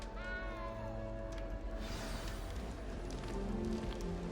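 A small frightened cat meows in Hogwarts Legacy, a rising, plaintive cry near the start over a low ambient game hum and faint rain-like background, followed by quieter murmurs.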